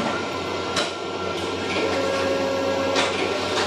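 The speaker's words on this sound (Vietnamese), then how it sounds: "Máy là máy in và đảo hai mặt" An office photocopier running a double-sided copying job for textbook pages, with a steady mechanical hum and repeated paper-feed swishes and clicks, close and continuous.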